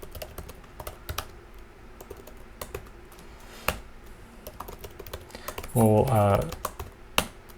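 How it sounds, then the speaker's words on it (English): Scattered clicks of computer keyboard typing while coding date formatting in Swift, irregular taps spread across the clip, with a brief spoken word and a short tonal sound near the end. "my typing's not great sometimes this time of day"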